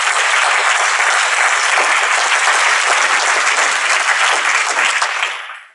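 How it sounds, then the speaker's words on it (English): A conference audience applauds its two speakers at the close of an evening session, with dense, steady clapping from a full room that keeps an even level before trailing off at the end. "Let's give a big round of applause"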